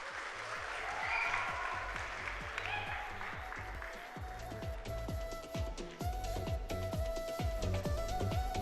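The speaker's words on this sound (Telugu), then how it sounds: "ఎవరో తప్పట్లు కొట్టండి" An audience at a film introduction event claps steadily, with dense rapid applause that stays fairly even throughout and some voices faintly mixed in.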